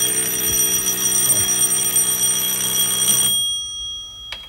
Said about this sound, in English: You see why I call it a fire alarm?